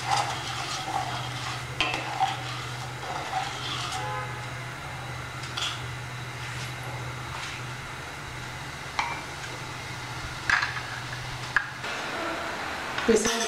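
Tamarind chutney with sugar and salt thickens in a pan over high heat, with a steady low simmer hum and soft scraping stirs and light utensil taps throughout.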